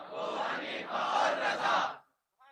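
A crowd at a religious gathering chants slogans in unison, a loud, full roar of many voices rising in two or three surging phrases before cutting off abruptly.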